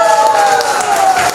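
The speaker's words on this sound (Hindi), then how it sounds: "ताली बजाइए मेरे के लिए।" An audience claps and cheers briefly at a network marketing training session in an indoor hall, a short burst of crowd applause with a voice sounding over it.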